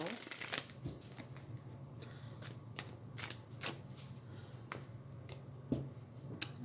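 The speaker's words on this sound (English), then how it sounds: "I'm going to do a good shuffle anyway, just to make sure that all of the culminating cards are shuffled back into the deck well" A tarot deck is shuffled by hand in a quiet room, giving a steady run of soft riffling and tapping card sounds with occasional sharper snaps.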